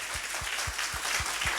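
Congregation in a church applauding continuously, a broad wash of many hands clapping at moderate distance, with a faint regular low thump keeping time underneath.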